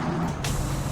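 A truck's air brake releases in American Truck Simulator, a sudden loud hiss of escaping air cutting in over a steady engine idle.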